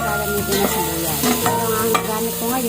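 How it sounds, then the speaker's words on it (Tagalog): Ingredients for a mussel soup are stirred in a frying pan with steady scraping strokes over a soft sizzle, while background music plays throughout. "Halu-haluin lang natin ito ng konti."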